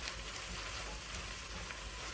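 Chili meat cooking in a pot, a faint, steady, even sizzle with crackling and no distinct stirs or voices.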